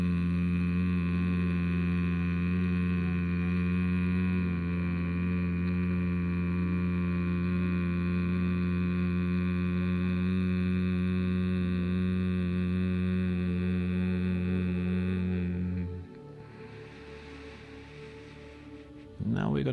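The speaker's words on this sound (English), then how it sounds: "make it really a deep hum as you're exhaling, Brahmari, which is the sound of the buzzing bee" A deep, steady Bhramari hum on a long exhale, buzzing like a bee, holds loud and even for about fifteen seconds before stopping, followed by faint room quiet.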